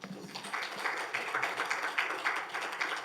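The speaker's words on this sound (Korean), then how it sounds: "신동희 교수님을 박수로 맞아 주십시오." An audience at an education forum applauds to welcome a professor, a modest, fairly faint patter of clapping that continues evenly throughout.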